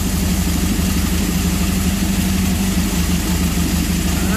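Honda CB750 motorcycle engine idling cold with no choke, a steady close low throb with a strong even pulse that holds constant throughout, no voices.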